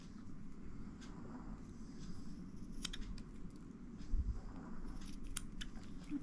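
Scissors snip through folded paper to cut a rounded shape, giving a steady run of close, soft crisp cuts over a low background hum.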